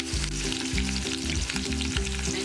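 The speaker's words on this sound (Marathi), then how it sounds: "कांदा भाजून घेऊया।" Chopped onion and curry leaves fry in a hot pan with a loud, dense, continuous sizzle and periodic stirring scrapes, close up and with no voices.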